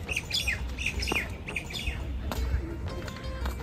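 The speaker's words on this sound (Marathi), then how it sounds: "पक्षी बिक्षी कसे वरडतात बघा" Birds squawk and chirp repeatedly in a quiet hospital garden, with several calls close by over a steady background hum and no talking.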